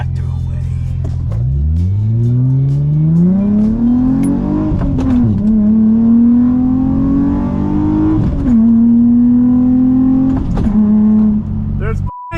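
A $2,500 project car accelerates hard, its engine note climbing loudly through several gear changes with brief dips between pulls, close and dominant, with voices now and then.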